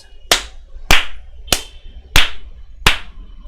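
Slow hand clapping, five sharp, evenly spaced claps about 0.6 seconds apart, close and loud against near silence.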